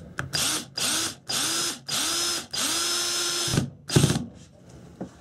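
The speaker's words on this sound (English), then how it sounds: "if you do use a drill like I did, make sure it's on a lower torque setting" A cordless power drill on a low torque setting with a drywall dimpler bit drives screws into drywall anchors for a floating walnut shelf, whirring in five or six loud close bursts that each ramp up in pitch, followed by a few clunks.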